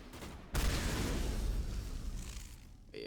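Shotgun blasts in the sci-fi shooter game Mass Effect, a sudden loud boom that rings out with a dense rumbling tail for over two seconds, then a second blast starts right at the end.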